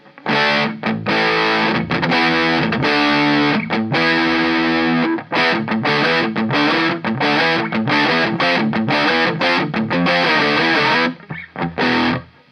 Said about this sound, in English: So now I've maxed out the gain to see what we're getting into now.